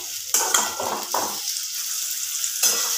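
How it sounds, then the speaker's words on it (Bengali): Onions frying in a pan, with bursts of sizzling and stirring scrapes and clinks of a utensil against the pan, close, separated by quieter gaps, no talk. "এবার আমি পেঁয়াজটাকে ভালো করে ভেজে নেব"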